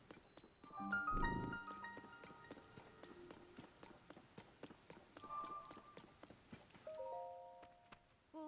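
Steady rain in The Legend of Zelda: Tears of the Kingdom, falling near the Hyrule Castle chasm as a continuous hiss. Game music and character voice sounds play over it, with brief footstep-like taps.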